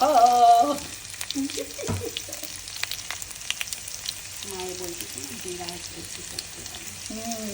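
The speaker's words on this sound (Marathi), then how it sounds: "आता खरपूस मिरच्या भाजून घेतल्या पाहिजेत आणि कढीपत्ता पण छान सुकला पाहिजे" Green chillies and cumin fry in oil in a pan for a poha chiwda snack, a steady close sizzle running throughout while people talk over it in bursts.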